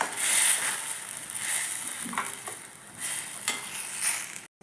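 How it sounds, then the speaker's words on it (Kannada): Curry bubbling in a pot on the stove, a steady close sizzling hiss with scattered soft pops and a few spoon scrapes, no voices. "ಇದು ಕುದಿಯಾಕತ್ತೈತಿ ಈಗ ಮಸ್ತ್"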